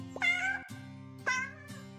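A cat meows twice, two clear drawn-out calls about a second apart, close and loud over a steady low hum with no talk.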